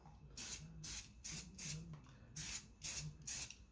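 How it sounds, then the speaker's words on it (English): Aerosol protectant sprayed under a Yamaha FZ6 motorcycle seat onto the hoses in seven short, even hissing bursts, close and fairly quiet, with no talking. "So we just give a small spray underneath here just to keep our hoses and that flexible"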